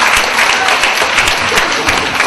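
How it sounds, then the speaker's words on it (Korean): Brief burst of audience applause at a Korean educational seminar's Q&A session, dense, steady clapping from a room of people, close and fairly loud throughout. "한번 박수 좀 쳐주세요."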